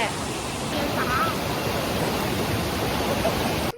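A real waterfall beside a lunch spot on a hidden mountain in Chiang Mai, a loud, continuous broadband roar of falling water filling the whole scene, with a brief voice-like sound early on.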